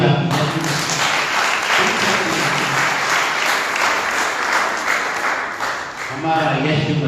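Congregation at a Sunday church service breaks into sustained applause, dense and steady clapping filling the room for several seconds, with voices mixed faintly under it.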